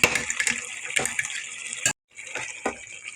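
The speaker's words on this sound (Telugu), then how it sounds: "గ్రేవీ కావాలని వాటర్ వేసుకున్నాము" Water pours into a pan of chili chicken curry to make gravy, a close splashing gush that stops abruptly, then a softer bubbling pour resumes briefly.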